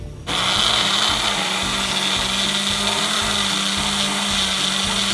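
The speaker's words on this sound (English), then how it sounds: "We are just going to blend this up in our magic bullet" A Magic Bullet blender whirs steadily while blending a milk batter for copycat McDonald's McGriddles, a loud, continuous motor drone that starts abruptly and runs without pause, with no talking.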